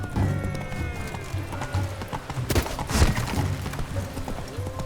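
Roach, the horse in The Witcher 3, clops along at a steady pace, hoofbeats thudding beneath a busy layer of game music and ambience, with one louder impact partway through.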